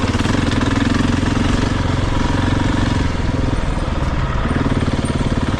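A Husqvarna 701 dual-sport motorcycle engine runs loud and close with a steady, rapid thumping drone that stays even throughout.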